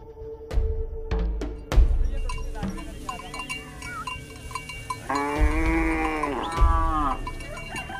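Cattle held in a thorn boma enclosure in lion country, with a few deep, drawn-out moos at moderate distance, preceded by scattered knocks and clanks.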